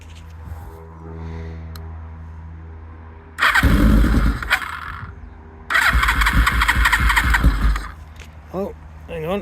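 A Suzuki Katana motorcycle engine cranking over twice in long loud bursts with a short gap between them, heard up close, and a voice talks before and after.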